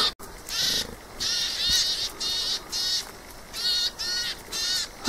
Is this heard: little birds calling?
yes